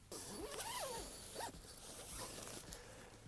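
Zippers being drawn shut on the outer doors of a tent, several rising and falling sweeps over about three seconds, close and fairly loud against a steady background hum.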